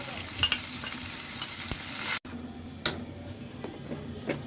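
Onion and a ground paste of turmeric, chilli, coriander, ginger and garlic frying in a pan, soft sizzling with scraping stirs, a sudden cut midway, then quieter sizzle and occasional spoon taps.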